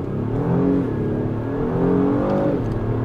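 A 2025 Acura MDX Type S Advance SUV accelerates hard from a standstill in normal drive mode, its engine note loud and close, rising and shifting pitch steadily through the gears with no talk over it.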